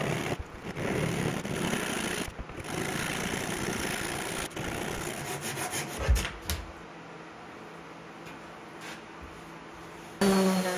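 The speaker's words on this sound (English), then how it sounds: "I could cut off the extra wood." A hand saw cuts off excess wood from a glued joint on a chair build, steady rasping strokes for about six seconds that then stop, leaving a low hum and a few faint knocks.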